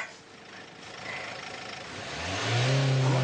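A car engine revs up as the driver, a learner on a driving lesson, presses the gas, rising from a low rumble to a loud, sustained mid-pitched roar near the end.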